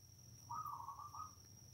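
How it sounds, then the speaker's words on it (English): Doves call outdoors, a single soft hooting phrase lasting under a second, moderately near, heard alone over a low background hum. "what is that noise from? Oh, yes, it's the doves."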